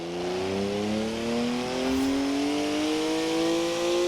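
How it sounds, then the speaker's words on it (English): In the Forza Horizon 4 racing game, a rear-wheel-drive BMW with a 3-litre twin-turbo straight-six making 335 horsepower pulls hard, its engine note rising steadily and loudly under acceleration. "3-litre straight six, 335 horsepower, 2 turbos, and as much sideways action as you like"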